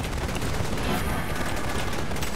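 Rapid pistol gunfire from a character in the online video game Gigantic, a dense continuous volley of shots filling the whole stretch at steady loudness, with no talk over it.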